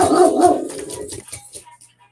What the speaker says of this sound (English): You might hear Dakota bark because the other dog is coming